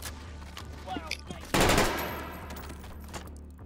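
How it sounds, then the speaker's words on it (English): Cartoony SMG fire in the VR shooter H3VR: a few scattered small clicks and shots, then a loud sharp burst with a ringing decaying tail. "I want these SMG sounds in some gun that we can have."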